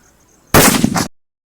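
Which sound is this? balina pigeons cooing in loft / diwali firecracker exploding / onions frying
diwali firecracker exploding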